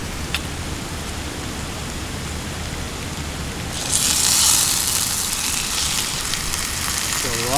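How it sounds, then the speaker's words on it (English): Peppers, onions and sausage frying in a pan outdoors beside a creek, a steady sizzle that swells louder partway through as the pan heats, close by with no talking. "Peppers, onions, sausage. Looking good. Frying down."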